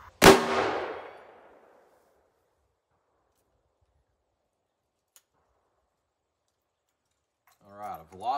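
.44 Magnum revolver fires a Lehigh Defense 220-grain Xtreme Penetrator solid copper bullet into a gel block: one sharp, loud shot that rings out and decays over about a second into silence, with a voice speaking briefly near the end.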